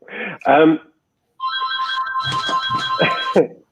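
A telephone rings with an electronic, warbling ringtone held for about two seconds, heard fairly close, while people talk before it and over it.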